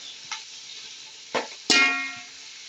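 Turmeric added to oil in a pan with green chillies while cooking biryani, giving a few short sizzling bursts, the last the loudest, that fade away into quiet frying.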